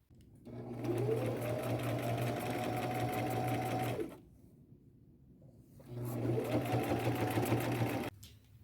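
Sewing machine stitching shirt pieces onto a jacket in two bursts of steady, close whirring, each revving up and holding speed for a few seconds, separated by a short quiet pause.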